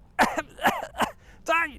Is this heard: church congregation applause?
no